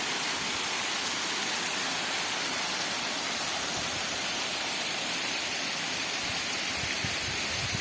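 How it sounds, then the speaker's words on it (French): Constant soft rushing of a gentle forest waterfall, an even, unbroken hiss close by, with no other sounds. "Ah, c'est une cascade toute douce."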